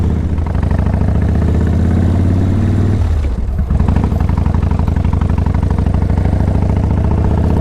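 Motorcycle engine pulling steadily in third gear on a bike bought with suspected mechanical damage, a loud continuous mid-pitched drone with a brief dip in revs partway through before resuming, heard close on a cold ride.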